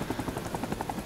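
A helicopter flying during a flight lesson gives a steady, rhythmic rotor chop over a constant engine drone. It is close and even throughout, with no talking.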